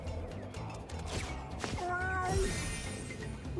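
A cartoon cat in the video game Mewgenics gives a short, clear meow with a rising then falling pitch, heard over steady background game music.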